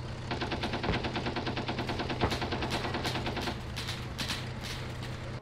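Rapid machine-gun fire sweeps a trench in Arma 3 during a World War 1 naval trench defense, a continuous fast stream of loud shots running for several seconds with no talking.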